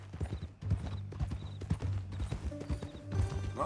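Horse hooves clip-clop in a steady walking rhythm across a ranch in a western video game, close and clear, with a brief tonal game sound near the end.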